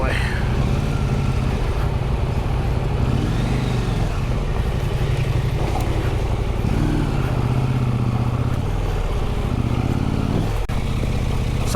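Adventure motorcycle ridden at an off-road rally event, engine loud and close with repeated throttle swells rising and falling over constant wind rush, a voice briefly audible beneath it.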